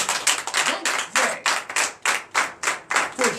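A church congregation claps in acclamation during a Sunday worship service in Comè, Benin, in a loud, rhythmic series of sharp, evenly spaced claps.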